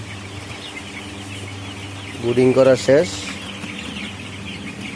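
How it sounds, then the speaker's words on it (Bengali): A brood of thirteen-day-old Tiger chicken chicks chirps as a steady high chorus in a brooding house with fans running, while someone speaks briefly over them. "আমাদের টাইগার মুরগির বাচ্চা বয়স তেরো দিন"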